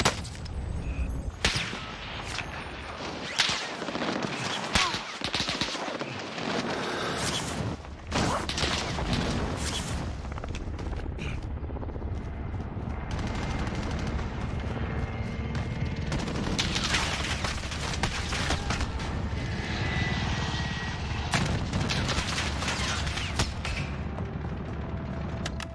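Gunfire aimed at a hostile attack helicopter in Call of Duty: Modern Warfare Plunder mode. Dense bursts of automatic fire and sharp cracks sound over a constant engine and rotor rumble, loud and continuous throughout.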